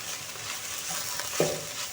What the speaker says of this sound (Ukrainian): І постійно перемішую.